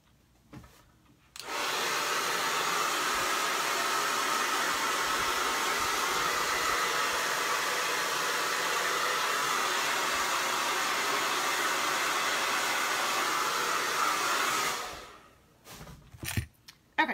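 Hair dryer blowing on freshly painted lime green leaves on a DIY painted clipboard, a loud steady whooshing roar that switches on after a second, runs evenly for about thirteen seconds, then cuts off.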